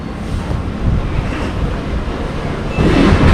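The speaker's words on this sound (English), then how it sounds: "The wind." Wind blows outdoors, a steady broadband rush like a breeze across the microphone. It stays constant, then gusts louder near the end.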